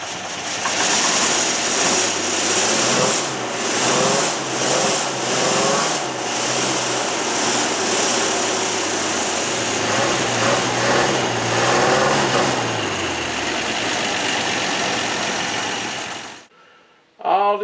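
A GMC V12 engine running smoothly, a loud, steady low rumble with a pulsing idle that sweeps slightly in pitch, then cuts off abruptly near the end.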